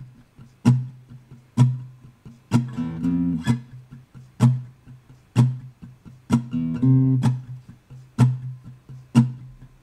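Acoustic guitar plays the bass part of a song, thumbed low notes hit in a steady rhythm with percussive slaps and brief strummed bursts, close and clear without speech.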